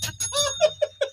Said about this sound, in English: Ring the bell for that one.